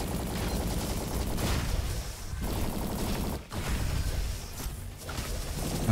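Splasher Rifle fire in the Roboquest video game comes as dense, continuous rapid bursts with a few short pauses, loud and close.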